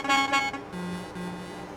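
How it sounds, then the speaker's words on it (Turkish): A custom air horn fitted to a Volvo truck in Euro Truck Simulator 2 gives two short blasts, then a steadier held tone follows, fairly quiet and with no talking. "Ben bir tek havalı korna ekledim buna."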